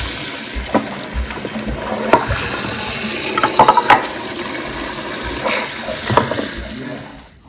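Tap water runs steadily into a sink while strawberries are washed, with splashes and clinks of handling the fruit under the flow, close and fairly loud.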